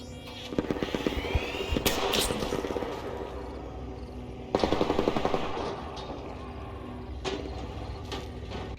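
Gunfire in the Arc Raiders video game rings out in rapid automatic bursts, loud sharp cracks clustered around the start and again midway, with scattered single shots and echoing tails between them.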